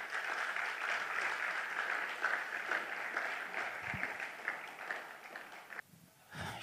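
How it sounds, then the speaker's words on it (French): Steady applause from an audience at an awards ceremony as a slam poet is introduced, a moderate, continuous patter of many hands that cuts off abruptly near the end. "Sous vos applaudissements, mesdames et messieurs."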